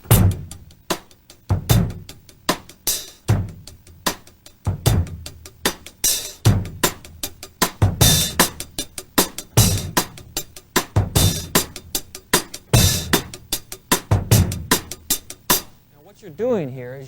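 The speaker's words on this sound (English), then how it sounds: "Adding a little bass drum, it'll sound like this." Drum kit groove from a 1989 drum instruction session: steady hi-hat with snare backbeats and added bass drum kicks, a repeating funk-rock pattern played close and loud, ending with a brief ringing decay.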